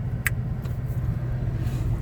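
A Ford Lincoln truck with a 460 cubic inch engine drives along with a steady low rumble of engine and road noise from inside the cab. A brief high click sounds once early on.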